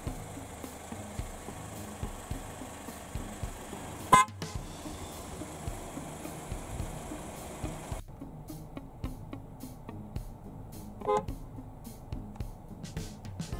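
Outside a late-model Toyota Vellfire 30, the horn sounds in two short honks several seconds apart, moderately close against a quiet idling background.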